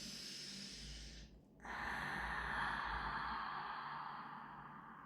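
A long, steady exhalation during a yoga breathing exercise, heard up close as a soft airy hiss. It is preceded by a brief sniff-like intake and carries on evenly for several seconds.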